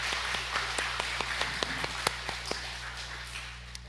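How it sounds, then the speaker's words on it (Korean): A church congregation claps at a Sunday worship service, scattered individual claps rising and falling in a loose irregular rhythm, moderately distant over a steady low hum, with no one speaking. "다시 한번 하나님께 영광 박수 올려드리겠습니다."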